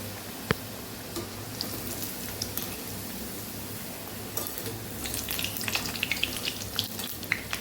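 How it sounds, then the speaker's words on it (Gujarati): Churma muthiya dough deep-frying in hot oil over a high flame, a steady close sizzle and crackle throughout with occasional sharper pops and no talking. "બધી બાજુ મૂઠિયાને ફેરવતા ફેરવતા મૂઠિયાને સરસ આપણે તળી લેવાના છે"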